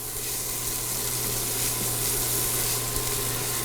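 Minced small onion sizzling in a pan as the base of a sofrito for Bolognese ragu, a constant even hiss with a low steady hum beneath, no pauses.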